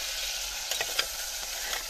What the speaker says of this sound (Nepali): अब आलु हाल्ने, टक्क आलु हाल्ने, चर चर भुट्ने होइन